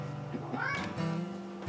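A house cat gives a short rising meow over faint background noise, with a few soft thumps and movement around it.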